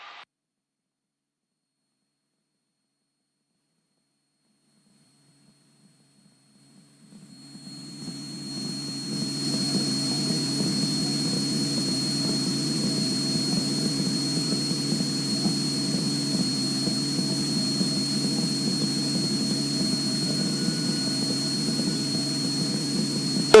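A Cessna light aircraft in flight cruising at low altitude between Miami and Key West, heard as a steady engine and propeller drone that fades in from near silence, then holds loud and constant.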